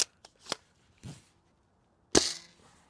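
A Sembylon Valkyrie UMP-45-style Nerf blaster fires Worker foam darts in sharp, close snapping shots, a few quick clicks followed by two louder discharges separated by silence, with no talking.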